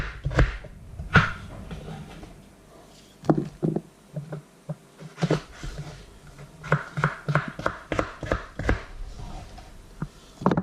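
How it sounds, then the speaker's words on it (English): A knife chops a medium-sized carrot into small dice on a cutting board during curry chicken prep, giving a run of sharp, close, irregular taps with short pauses between bursts. "we're gonna cut some carrot into some small sizes, to dices"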